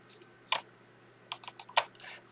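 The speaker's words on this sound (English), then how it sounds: "And we can use the arrow on our keyboard, which will keep it aligned, and just press it a couple of times" Computer keyboard arrow keys pressed while nudging graphics into alignment: a single sharp click, then a quick cluster of four or five taps, close and crisp with no talking.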